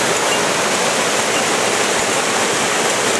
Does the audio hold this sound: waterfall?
yes